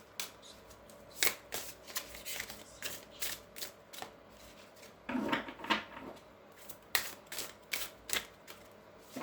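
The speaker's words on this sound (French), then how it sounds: "Allez, on va couper le jeu." A deck of tarot cards being shuffled and cut by hand, with repeated crisp riffling flicks in rapid bursts, a denser rustle midway, close and fairly quiet with no speech.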